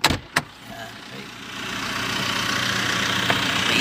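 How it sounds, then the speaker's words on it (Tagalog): A noisy car engine idles at an overlook tourist spot in Antipolo. A couple of sharp knocks open the clip, and then a steady, rough engine drone builds and holds close by to the end. "Maingay lang ang sasakyan."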